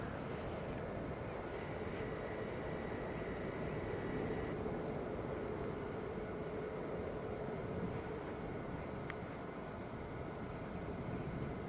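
A Hop airliner taxis out at Manchester Airport in sunshine, its steady broadband jet whine and rumble sustained and fairly distant throughout, with no voices over it.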